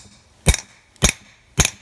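Three sharp metallic hammer blows drive a hex socket into a damaged, rounded-out bolt head during an engine teardown, evenly spaced and close up, with no talk.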